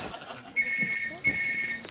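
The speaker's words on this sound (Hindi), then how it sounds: "ये किसका फोन है? मैंने बोला था ना फोन साइलेंट पे रखो।" A phone rings in two electronic trill bursts, moderately loud over a murmuring room background.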